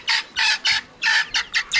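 Domestic chickens raised at a farm hut cluck in a quick run of seven loud, close bursts, each a brief clucking call, with no talk over them.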